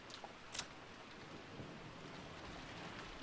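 Pouring rain from a visual novel game soundtrack, a steady wash of heavy rainfall with a low rumble underneath, continuous and fairly quiet with no voices.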